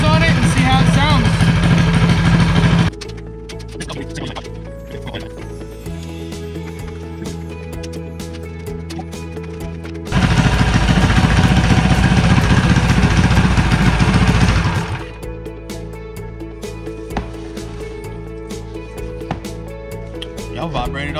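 A Predator 212 small engine fitted with a Mikuni carburetor and torque converter runs close and loud, alternating between roaring revs and a steadier lower idle across several cycles; a person talks in the background at times.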